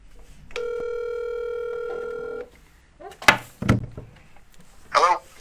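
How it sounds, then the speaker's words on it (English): A telephone call is placed during a broadcast. A steady electronic tone holds for about two seconds, and then a few sharp clicks and thumps follow as the line connects. "Dan, we're gonna call you on the phone."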